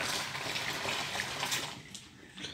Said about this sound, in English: I'll let that water drain out, then I'll do the rinsing.